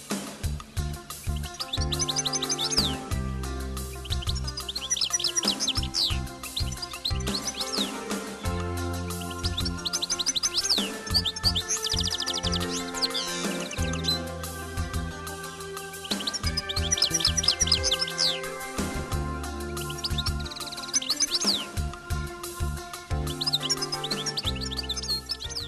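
Elegant European goldfinches singing in Côtes d'Armor, a steady run of bright twittering, liquid chirps and trills repeated across the whole stretch, up close and fairly loud over a full, busy background.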